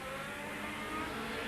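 A Chevron B8 race car at a 1991 historic race at Montlhéry near Paris, its engine a steady loud roar at sustained revs, heard alone and unbroken throughout.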